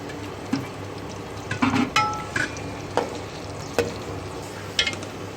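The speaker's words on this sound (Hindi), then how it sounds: "कोई देर तक हम चिकन को चलाएंगे" Chicken stirred in a pan with oil and ginger garlic paste for chicken karahi: a low, steady sizzle under a few scattered scrapes and clinks of the spoon against the pan, with no talking.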